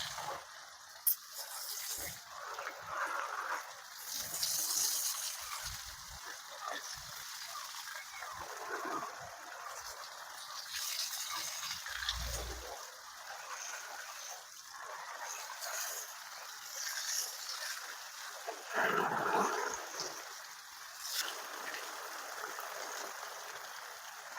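Water splashing and flowing onto garden plants like rain, with soft gurgles and spatters, fairly quiet and continuous, with occasional background noise.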